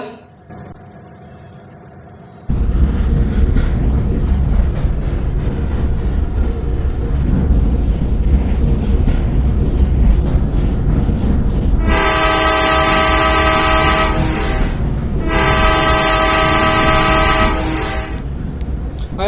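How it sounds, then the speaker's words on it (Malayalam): A train in Indian Bike Driving 3D rumbles along steadily and loudly, with a long, harmonic horn blast that sounds twice, pauses briefly between them, and lasts several seconds each time. "നമ്മൾ നേരെ ട്രെയിനിലാണ് പോകുന്നത്."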